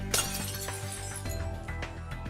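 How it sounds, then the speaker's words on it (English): A glass shatters after being driven by resonant vibration, a loud crash followed by a dense spray of tinkling shards that keeps ringing throughout, with no talking. "If we strengthen the signal even more, we will see the vibration getting bigger and finally the glass will break up."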